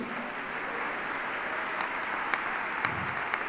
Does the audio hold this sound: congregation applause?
yes